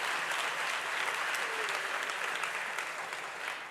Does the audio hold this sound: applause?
yes